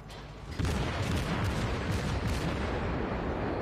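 Armor-piercing shell fire from warships in World of Warships, a burst of heavy gunfire that kicks in after a short lead-in and holds as a loud, dense rumble of rolling booms.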